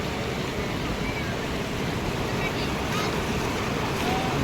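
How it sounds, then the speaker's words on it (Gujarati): Water pours from Mukteshwar Dam on the Saraswati river, a loud, continuous broadband roar of rushing water with steady wind noise and no clear break. "ડેમમાં આટલું પાણી હેડે"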